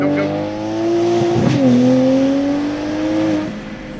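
A tuned Toyota A90 Supra pulls hard up a mountain road, its engine note rising loud and close through a gear change mid-way, then climbing again, heard from inside the cabin with no talk.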